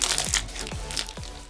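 Foam slime is squeezed and kneaded by hand, giving three distinct crunchy, crackling squishes at an even pace, close and fairly loud over a constant rustle.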